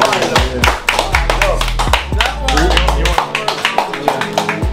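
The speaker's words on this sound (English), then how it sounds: "Alright, round of applause." A small group gives a round of applause with sharp, close handclaps over a deep, booming music bed, and voices can be heard among the clapping.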